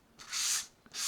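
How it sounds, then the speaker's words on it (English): Sandpaper scuffing across a junk journal page coated with dried gesso: two brisk, raspy rubbing strokes, the first longer and the second starting just as it ends, close and fairly quiet with no talking. "Just to scuff it up a tiny bit."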